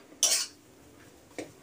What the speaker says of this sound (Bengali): আমি কমিয়ে দিয়ে একটু আস্তে আস্তে নাড়ছি